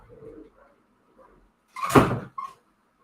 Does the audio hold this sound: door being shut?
yes